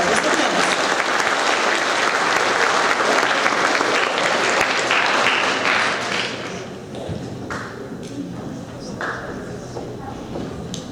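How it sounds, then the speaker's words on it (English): Audience applause for award recipients at a seventh grade awards ceremony, a full, loud burst of clapping that thins out after about six seconds into scattered, fading claps. "let's give one more round of applause to our Bulldogs Care recipients"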